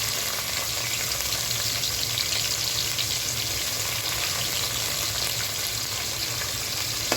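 Chopped onions fry with browned potatoes in hot oil for a tehari, giving a steady, close crackling sizzle that stays even throughout, with no voices.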